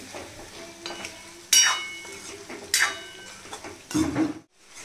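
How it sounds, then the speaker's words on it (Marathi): Green beans, cauliflower and potato being sautéed and stirred in masala in a pan, soft continuous sizzle with several sharp scraping stirs of a spoon against the pan, close and fairly quiet. "तर आता या मसाल्यांमध्ये शेंगा, फ्लावर, बटाटा छान असं परतून घ्यायचं आहे"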